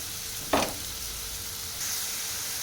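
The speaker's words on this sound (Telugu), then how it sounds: "బీట్రూట్ ముక్కల్ని వేసేస్తున్నాను. వేసి ఫ్రై చేసుకోవాలి." Beetroot pieces dropped into hot oil in a pan for beetroot pachadi, giving a brief burst of sizzling that settles into a steady, quiet frying hiss with no voices.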